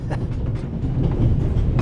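Train from The Raven Remastered rolling steadily along the tracks, a continuous low rumble with faint rhythmic clatter, fairly close and without talk.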